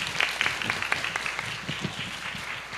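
A church congregation at a women's fellowship dedication service breaks into steady, sustained applause to welcome a pastor to the pulpit, a dense even clatter of many hands with no speech over it.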